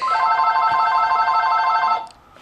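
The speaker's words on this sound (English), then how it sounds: "Just ignore the phone that was ringing in the background." A telephone rings with a steady electronic warble for about two seconds, fairly loud, then cuts off into quiet.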